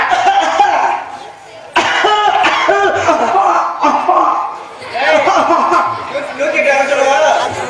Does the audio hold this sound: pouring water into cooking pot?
no